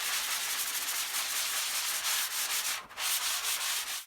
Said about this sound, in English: I use a sander pole for most of this